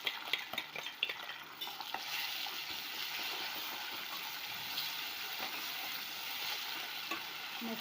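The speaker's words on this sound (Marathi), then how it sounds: "मस्त वाटणाला ते तेल सुटेपर्यंत आपल्याला मस्त शिजवून द्यायचं आहे" Ground masala paste cooks in oil in a pot, giving a continuous close crackling sizzle. Scraping stirs come in bursts early on, then a steadier fry holds under no speech.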